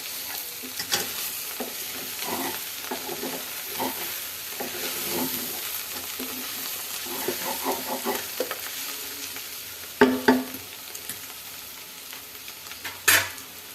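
Sliced bitter gourd fries over low heat in a pan, a continuous close sizzle with repeated scraping stirs of a spoon and a few sharp knocks against the pan near the end, no voices.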